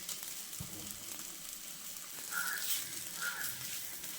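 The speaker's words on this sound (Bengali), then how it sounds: "এখন দিয়ে দিচ্ছি ডিমটা।" An egg frying with spiced potato in a pan gives a faint, steady sizzle throughout, swelling slightly louder near the end.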